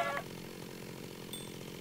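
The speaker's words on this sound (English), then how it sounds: "Is there a way to turn off the chainsaw sounds as well?" Chainsaw sound effect in the Minecraft Tekkit mod: a faint, steady mechanical buzz that runs throughout, with a brief brighter burst at the start, fairly quiet and with no voices.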